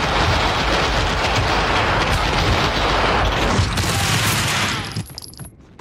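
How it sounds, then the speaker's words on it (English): Dense, continuous gunfire and booming blasts from a shootout in the video game Max Payne 2, loud and sustained for about five seconds before cutting off abruptly into near quiet. "Someone must have heard the gunfire."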